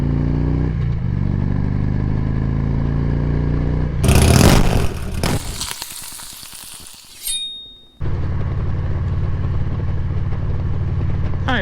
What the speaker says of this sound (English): let's hear that engine go